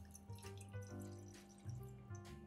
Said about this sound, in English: So let's add some water in this pan.